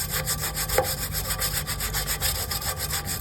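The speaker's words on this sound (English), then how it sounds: "just to get all of the rest of the dirt that I'm scrubbing with the brush off" A brush scrubs dirt off the fins of a filthy AC blower wheel, steady rapid back-and-forth rasping strokes, loud and close, with no talking.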